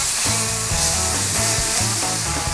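Mushrooms and onions fry in a pan with a steady, loud broadband sizzle throughout, a continuous hiss with a rhythmic musical backing underneath.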